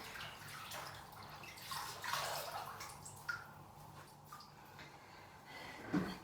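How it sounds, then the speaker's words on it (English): A face being rinsed with a wet flannel cloth: quiet, close splashes, drips and soft squelching wipes in irregular bursts, ending with a louder wet slosh. "just rinse off with my flannel, wet cloth"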